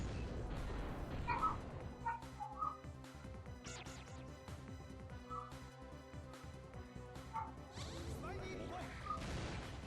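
Dogs barking downstairs, a string of sharp barks rising from a distance under a busy backdrop of game music and sound effects.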